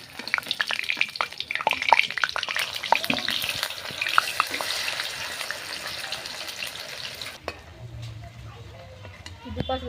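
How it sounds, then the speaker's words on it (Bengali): Pumpkin flower fritters in gram-flour batter sizzle and crackle steadily in hot oil in a wok, with dense frying noise that drops to a quieter hiss near the end. "দুপাশ লাল লাল করে ভেজে নিয়েছি, এবার তুলে নেব।"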